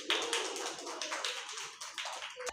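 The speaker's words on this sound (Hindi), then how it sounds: "अब बजाओ विनी के लिए ताली" A group of hands clapping steadily for about two and a half seconds, a brisk, close, continuous patter of applause with no voices over it.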